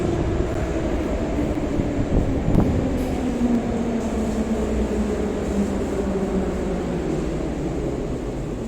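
Metro train rumbling past in the background near a station entrance, a low droning roar with a slowly falling pitch that stays steady and fairly loud, with a brief clunk partway through.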